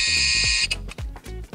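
A quiz show buzzer at a seniors' residence game sounds once, a loud sustained electronic buzz lasting about two thirds of a second, followed by indistinct voices and room noise.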